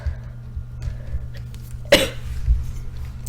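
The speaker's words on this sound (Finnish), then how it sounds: "mun yskä" One sharp cough bursting out of quiet room tone, with a softer throat-clearing follow-up half a second later.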